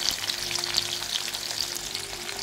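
Curry leaves, crushed garlic and shallots fry in a pan with a steady, close crackling sizzle and scattered sharp pops, and no voices.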